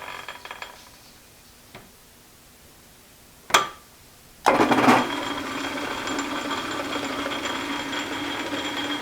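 A metal lathe cuts a backing plate for a collet chuck. A few sharp knocks come first, then a loud, steady cutting drone with a grinding edge that runs on without a break.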